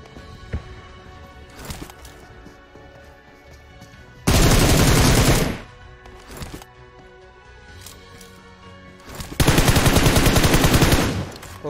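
Two long bursts of automatic gunfire in PUBG Mobile as a player guns down a bot, each loud, sustained volley lasting over a second, separated by quieter game ambience with a few scattered single shots.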